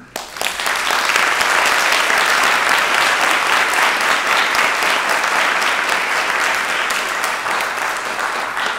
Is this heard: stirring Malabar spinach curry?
no